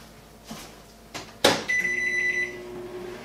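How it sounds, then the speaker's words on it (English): A kitchen microwave oven heats a plastic-wrap-covered dish while caramel apples and cupcakes are being baked, starting with a few clunks and a beep, then settling into a steady electric hum with a faint whine. "and this goes into the microwave for 3 minutes."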